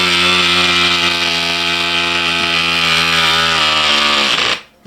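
A small battery-powered electric tyre pump drones steadily at close range, its pitch slowly sagging as the battery fails before it winds down and cuts out.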